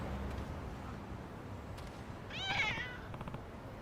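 A single cat meow from the video game Lost Judgment rises clearly in the middle of quiet, steady background ambience, short and fairly close.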